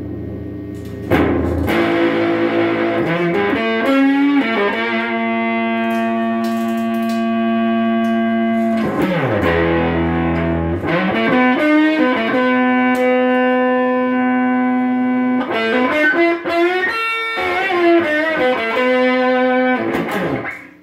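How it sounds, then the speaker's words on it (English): Heavily distorted electric guitar through a converted Dukane intercom amp, playing sustained chords in long, loud phrases with brief breaks between them, thick and saturated. "If you do it the opposite, you see it's got a lot of distortion."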